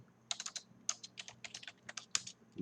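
Rapid typing of code on a computer keyboard, a quick irregular run of crisp close key clicks with short pauses between bursts, no voices over it.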